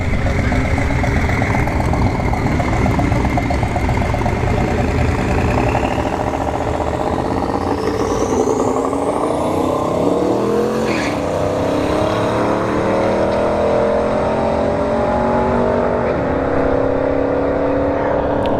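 A turbocharged Chevrolet Silverado pickup launching down a dragstrip, a loud sustained engine roar that rises steadily in pitch through the run with a brief shift dip, close and continuous.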